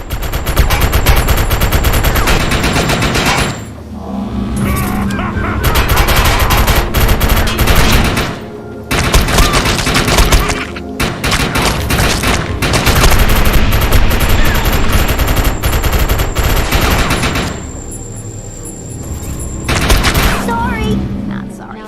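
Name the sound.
machine gun fire in video game Defiance 2050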